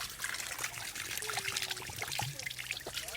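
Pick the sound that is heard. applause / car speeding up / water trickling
water trickling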